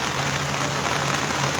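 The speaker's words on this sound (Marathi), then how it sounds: "पण मी आल्यानंतर किंबहुना आपण सगळे इथं आल्यानंतर पाऊस सुरू झाला" Rain falling outdoors, a dense continuous patter of drops on surfaces, steady and fairly loud with no voices.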